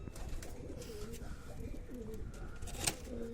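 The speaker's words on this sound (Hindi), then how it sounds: "ये अपना 20 साल पुराना कबूतर" A twenty-year-old pigeon coos in low, murmuring rolls, close by and continuous, with a faint background hum and one brief sharp click.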